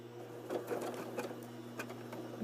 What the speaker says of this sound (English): Then I'm going to begin to sew with my little zigzag